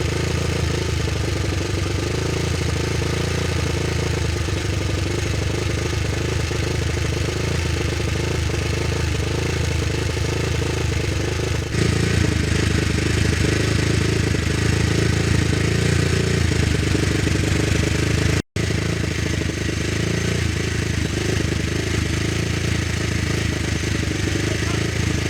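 Senior Classic Norton racing motorcycle engines running in the pit at the Classic TT, a steady loud mechanical drone throughout, briefly swelling partway and cutting out for an instant.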